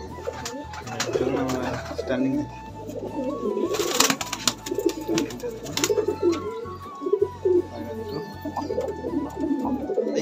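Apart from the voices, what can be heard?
high flying pigeons cooing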